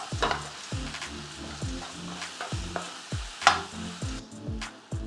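Crushed garlic and minced ginger fry in a pan for saag paneer, with a steady sizzle and a spoon or spatula scraping and stirring in a regular rhythm, close and alone.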